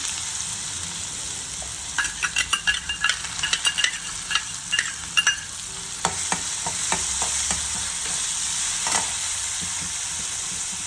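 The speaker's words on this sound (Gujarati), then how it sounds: "હવે આ જે છે ડુંગળી અને આમાં લસણ પણ નાખેલું છે ચોપ કરીને, એ નાખી દઈએ." Chopped onion and garlic hit hot oil already seasoned with cumin and asafoetida, bursting into a sharp crackling sizzle with a quick run of spattering pops and stirring clicks, then settling into a steadier, softer fry.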